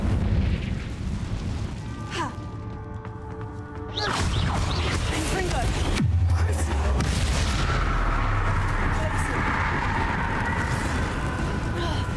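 A Confringo fire spell explosion in a video game, set in a cave: a deep booming blast erupts and rumbles on, with a second sharp burst, after a voice shouts the spell.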